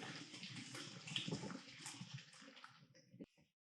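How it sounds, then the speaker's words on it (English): Boiled potatoes tipped into a kitchen sink to drain, a continuous rush and splash of hot water pouring out for about three seconds before stopping abruptly. "Now we're going to take these and drain them."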